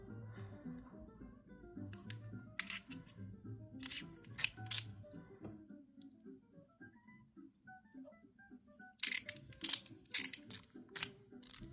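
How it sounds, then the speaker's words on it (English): A stainless steel EDC fidget slider being slid back and forth and clicked, giving bursts of crisp metallic clicks and snaps between quieter sliding, close up. "the Feelings slider in stainless steel"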